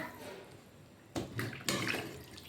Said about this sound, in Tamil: ஓகே, தேவையான அளவு தண்ணி ஊற்றுறேன்.